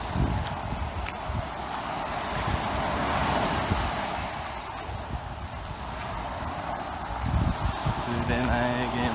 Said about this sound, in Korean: 오야 파도가 계속 더 치냐.